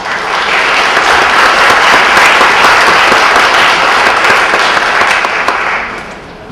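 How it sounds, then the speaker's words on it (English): Loud, full audience applause rings through a church sanctuary at an evening festival concert, a dense wash of many hands clapping that holds steady and then fades away at the end. "Let's give them a round of applause."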